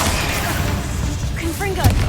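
A Confringo blasting spell bursts in Hogwarts Legacy, a fiery boom with crackling debris over a steady low rumble. Brief tonal chirps and a short punchy impact follow near the end.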